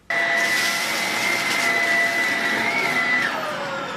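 A vacuum cleaner switches on abruptly and roars with a loud, steady whine while sucking up loose screws left over from a laptop repair, its pitch shifting slightly toward the end.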